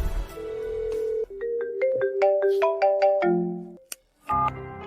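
A melodic telephone ringtone plays loud and close, a steady chiming sequence of rising and falling tones that breaks off briefly near the end, then starts up again.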